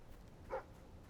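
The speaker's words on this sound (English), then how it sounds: "What are you barking about over there?" A single short dog bark in the video game Fable 3, one brief yelp-like burst rising midway over a quiet, low ambient background.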